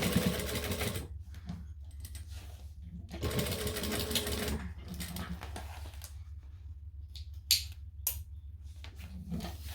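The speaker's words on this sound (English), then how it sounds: "Up and around and down. You don't have to do the bottom edge, I like to." A sewing machine stitches around a fabric bag in several bursts of rapid mechanical whirring, separated by short pauses, loud and close, with quiet handling sounds between runs.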